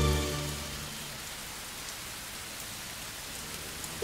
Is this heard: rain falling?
yes